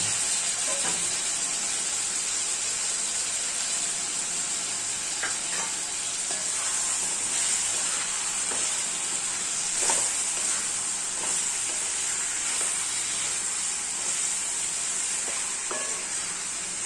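Tomato, onion and eggplant sautéing in oil for a kalyanam-style kara kuzhambu, giving a steady, close, hissing sizzle throughout with occasional faint clicks and scrapes of stirring, no voices.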